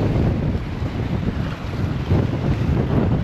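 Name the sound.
strong wind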